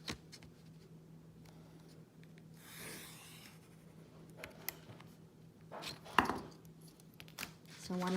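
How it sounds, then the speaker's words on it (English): A pen or marker scratches lines across paper for a woven placemat, with close, intermittent strokes and soft rustles, one stronger swipe standing out near the end. "all I'm doing, as you can see, is continuing my lines to the edge of the paper."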